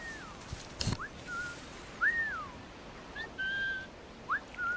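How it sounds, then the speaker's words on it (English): Assassin's Creed IV Black Flag character whistling to lure guards from a stalking zone: several short rising and falling whistle calls spaced over a few seconds, with a sharp thump early on and no speech. "When you're in these stalking zones, you can press circle to whistle, and it'll attract them to come closer to you."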